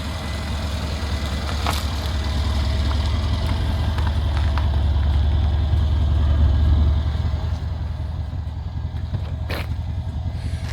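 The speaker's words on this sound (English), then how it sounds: "Give the throttle a quick blip there, James." Car engine idling steadily with a low, continuous rumble, close by, with a few faint sharp knocks above the drone; any throttle blip is not clearly distinguishable.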